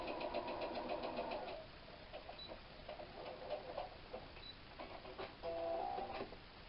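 A sewing machine stitches a quilt seam on a log cabin block using a 1/4 inch foot, giving a steady close mechanical whir with quick ticking needle strokes and brief pauses in between.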